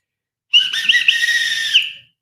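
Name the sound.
whistle being blown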